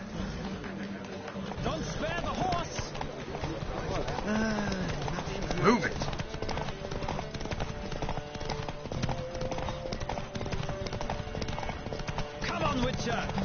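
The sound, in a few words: horse galloping in a video game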